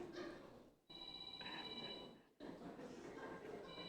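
In a church, a telephone rings on and on, several ringing bursts separated by short gaps, fairly faint in a reverberant room.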